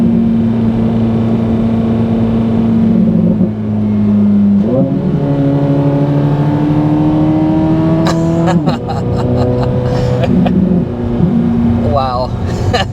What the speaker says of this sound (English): I love this engine and exhaust.